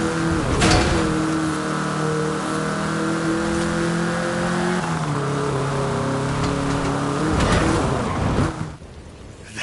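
A Volkswagen Beetle (Vocho) drives in Forza Horizon 5, its engine droning steadily and loudly with changes in pitch as it shifts gears. Rough bursts of road or rumble noise occur near the start and end, and no one talks.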